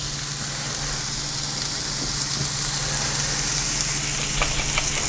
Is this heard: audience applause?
no